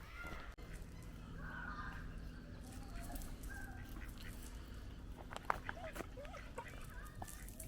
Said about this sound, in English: These are Silkie chickens.